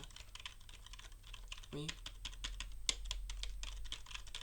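Gaming keyboard keys typed in a quick, uneven clatter of close, crisp clicks. A short spoken word sits partway through.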